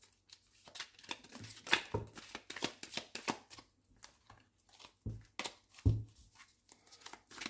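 Tarot cards being shuffled and cut: a run of quick papery riffles and flicks, with two sharper slaps of the deck, close and fairly quiet, with no talk.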